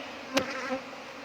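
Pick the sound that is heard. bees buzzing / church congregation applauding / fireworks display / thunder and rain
bees buzzing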